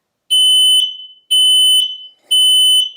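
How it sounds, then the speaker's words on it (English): Smoke alarm going off during a sensor test, three loud, piercing electronic beeps in an even pulsing rhythm, close and alone. "The alarm will sound loudly."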